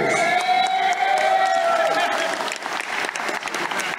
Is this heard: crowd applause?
yes